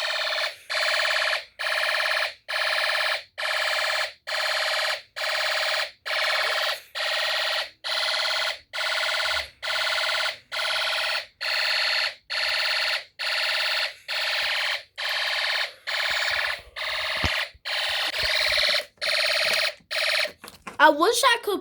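Snap Circuits fire alarm system sounding during a test, a loud electronic beeping tone pulsing in an even rhythm of roughly one-second bursts for about twenty seconds, ending in a brief clatter.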